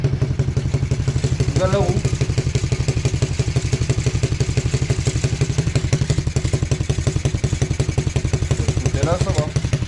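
A cheap quad bike's small engine chugs nearby with a rapid, steady, clattering beat that continues throughout as a person speaks briefly over it.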